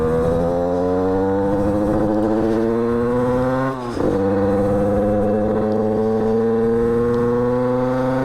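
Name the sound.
50cc moped AM6 engine running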